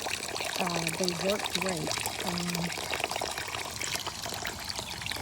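Water trickles and splashes continuously from small AISITIN DIY solar-powered pump fountains outdoors, with a person talking over the steady pouring sound.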